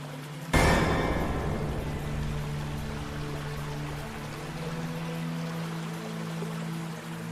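Water pours and streams steadily from a waterfall at a Mahadev temple, a sudden splash starting the flow, which then continues as a constant rushing wash with no voices.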